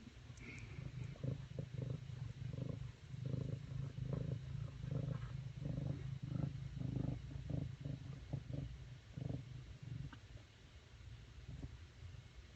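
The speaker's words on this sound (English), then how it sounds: "You can hear the purrs returning." Continuous deep purring from cats up close, a steady throbbing rumble that carries on for the whole stretch with no talking.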